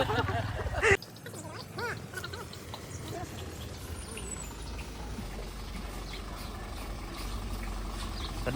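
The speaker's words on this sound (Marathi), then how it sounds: "या ठिकाणी आपली गाडी आलेली आहे" A vehicle engine idles after pulling up, a steady low rumble running through the whole stretch, moderately loud, following a brief louder knock near the start.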